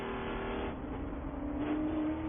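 Spec Corvette race cars circling Sebring International Raceway during a feature race, a steady loud engine drone with a rising harmonic as cars run spaced out through the field, no voices.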